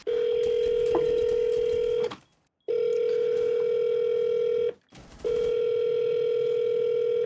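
A phone line held on a steady, loud dial tone, broken by two short silent gaps, while a call is placed to a Taco Bell restaurant.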